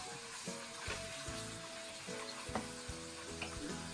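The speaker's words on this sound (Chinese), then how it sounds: "锅中放入适量的植物油，油热以后下入肉丝" Shredded pork fries in hot vegetable oil in a wok, a close steady sizzle with light stirring scrapes and crackles running throughout, no voices.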